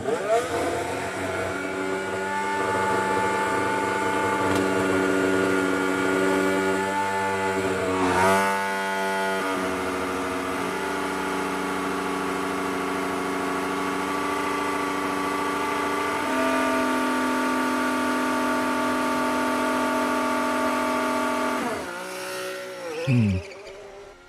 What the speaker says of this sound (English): how long it takes the fastest car to spool up their turbo for the race start